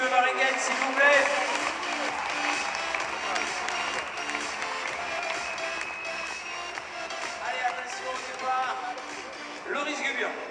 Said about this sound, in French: Allez, on applaudit à Maxime Varenguel